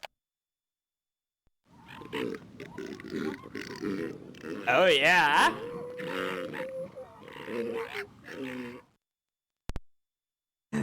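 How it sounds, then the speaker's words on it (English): A recorded southern elephant seal call played back from a zoo animal sound display, a deep guttural, throbbing roar with grunting pulses lasting several seconds, followed by silence and a brief click. "Oh, southern elephant seal."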